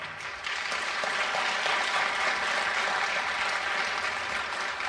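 Audience at a panel discussion on fighting racism and discrimination breaks into applause, clapping swelling in after a brief quiet moment and continuing evenly at a moderate distance.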